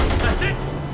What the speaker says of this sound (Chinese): 我试试看它机枪塔可不可以用哦